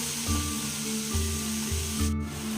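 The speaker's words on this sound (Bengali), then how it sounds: "এবার নুনটাকে এই সবজির সাথে খুব ভালো করে মিশিয়ে দেবো।" A spoon or spatula rubs and scrapes through salted vegetables and cabbage in a pan, a few slow, close strokes over a low steady hum.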